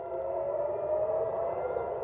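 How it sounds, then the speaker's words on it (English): Air raid sirens sounding in Tel Aviv during a Yemeni missile attack, a steady, sustained wailing tone that holds loud and continuous throughout with no talking. "Dramatic visuals captured on camera after sirens in Tel Aviv caused panic among residents."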